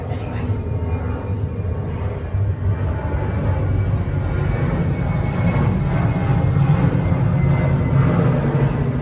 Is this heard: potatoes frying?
no